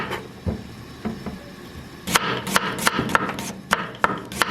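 A knife slicing a whole onion into round rings on a board, with sparse light cuts at first, then a brisk run of sharp, close chopping taps, heard alone without talk.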